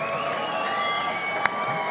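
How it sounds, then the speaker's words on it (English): A boxing crowd in a Liverpool venue applauds and cheers the professional cruiserweight boxers in the ring, a steady, dense roar of clapping and voices through the whole moment, with one sharp smack standing out near the end. "a nice round of applause, please, for both of our professional boxers in the ring"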